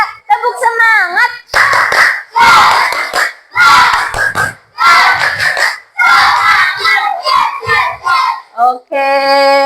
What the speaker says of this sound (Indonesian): Kalau senang kasih tepuk semangat ya Bu Deska.